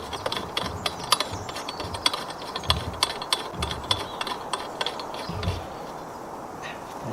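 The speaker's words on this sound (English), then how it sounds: "I'll screw that on." A coupler being screwed by hand onto freshly cut thread on steel conduit, rhythmic metallic ratcheting clicks repeating close up over a steady background hum, tapering off near the end.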